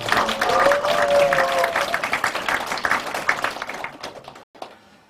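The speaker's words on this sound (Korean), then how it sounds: "큰 박수 부탁드립니다." An audience at an eco-friendly farming policy forum in Goyang claps loudly in a dense burst of applause that thins out into scattered claps and stops.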